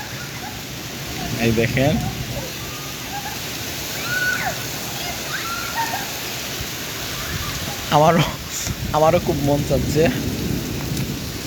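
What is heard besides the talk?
rain and thunder during a Kalbaishakhi storm in Sylhet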